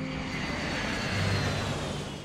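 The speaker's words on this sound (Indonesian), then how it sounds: "Joe memberitahukan kepada Dog White tentang keistimewaan pesawat King Air 200 pabrikan dari Beechcraft sebagai pesawat jet pribadi bermesin twin turbo yang mampu melesat dengan kecepatan tinggi." A Beechcraft King Air 200 twin-turboprop aircraft in a film hums with a steady, loud engine drone that holds evenly throughout, with no one speaking.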